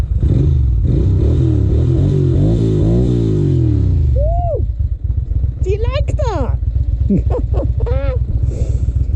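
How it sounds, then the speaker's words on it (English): A 2001 Ducati Monster 600 twin-cylinder engine rumbles loudly and steadily up close, revving and settling, while a man briefly exclaims and talks over it. "So that's the engine sound. Real rumble, you hear that?"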